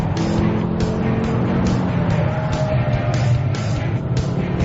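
A Ford Focus ST225 braking hard at speed: continuous loud engine and road roar with rhythmic pulsing bursts, close and steady throughout, no speech.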